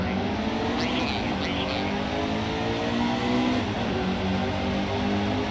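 Stock-car engines drone steadily in a NASCAR Heat 2 race at Atlanta, a loud, unbroken pack roar with rising and falling pitch and no pauses.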